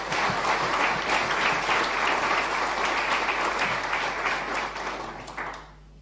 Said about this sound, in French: Et je crois que ça mérite un applaudissement.